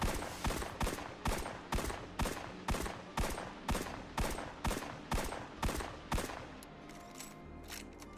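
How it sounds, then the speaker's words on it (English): A Zeal Vector sidearm fires in Destiny: Rise of Iron: about a dozen loud, evenly spaced shots in steady semi-automatic rhythm, ending abruptly, with a quieter ringing tail. "here's a clip of what this weapon actually sounds like"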